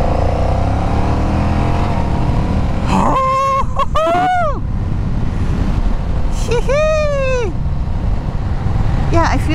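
A motorcycle in sport mode revs and accelerates in a parking lot, engine pitch sweeping up and falling in two distinct surges over a constant roar of wind buffeting the microphone.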